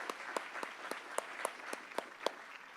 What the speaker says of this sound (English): let's give another round of applause for David.